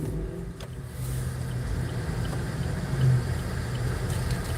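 A car pulls out and accelerates along a road in rush-hour traffic, its engine and tyre noise a steady, close rumble that swells briefly midway, with no one speaking.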